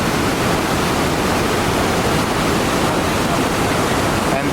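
Iguazú Falls roaring on the Argentinian side, a dense, steady wash of falling water filling the whole span at close range, with no pauses or distinct voices.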